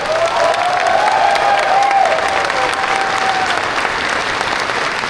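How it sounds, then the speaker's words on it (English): Steady, dense applause from a large audience at a furry convention closing ceremony fills the whole stretch at even loudness, with a faint whistle rising briefly early on. "Can we get a round of applause for them,"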